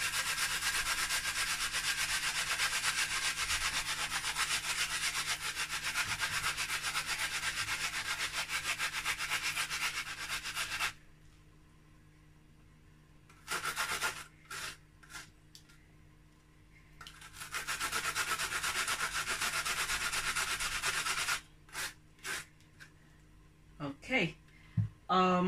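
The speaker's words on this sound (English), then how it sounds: "I'm going to grate the onions" Onions are grated by hand into eggs, a long, steady, close scraping rasp that runs for stretches, pauses, then resumes, with brief clicks and knocks in the gaps.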